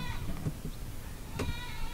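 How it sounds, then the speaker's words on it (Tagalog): A goat bleats faintly a couple of times on a quiet sunny morning near a caravan, with low background rumble throughout. "Tapos may maririnig ka na kambing."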